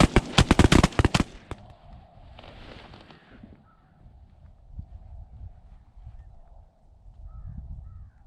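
Shotguns fire during a goose hunt in Texas: a rapid volley of loud, sharp blasts packed into the first second, one last distant shot, then quiet open-field ambience.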